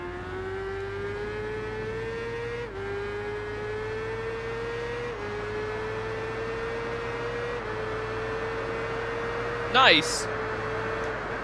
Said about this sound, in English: The bike flows between these corners so nicely.